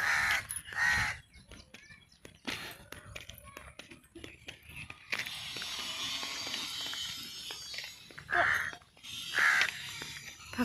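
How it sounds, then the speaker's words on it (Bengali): Crows caw outdoors in an open, quiet area during an evening walk, giving a couple of short bursts of loud calls at the start and near the end, with people talking and footsteps between them. "কাক কাক।"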